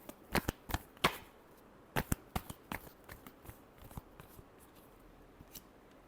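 A deck of tarot cards is shuffled in quick bursts of crisp riffles and slaps, clustered at the start and again mid-way, then thinning to occasional taps, close and quiet with no speech.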